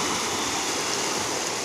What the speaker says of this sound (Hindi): पत्थर में से पानी कैसे गिर रहा है